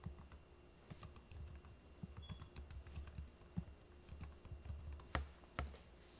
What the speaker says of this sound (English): And you do that by typing in your channel's name